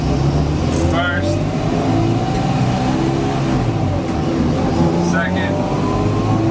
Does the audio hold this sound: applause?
no